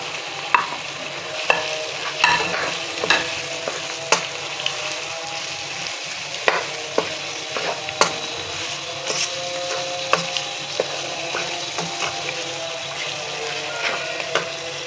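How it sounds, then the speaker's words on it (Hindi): Boiled mutton sizzles as it is added to softened tomatoes in a hot karahi, a steady close frying hiss broken by repeated sharp clinks and scrapes of a stirring spoon against the pan. "अब ये बॉयल गोश्त हम इसमें डाल देंगे मटन"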